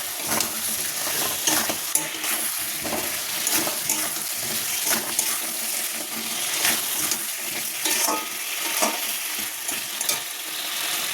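Fried potatoes are stirred into a pan of potato biryani, a continuous sizzle and crackle near the microphone, broken up by repeated scraping clicks of the spoon against the pan.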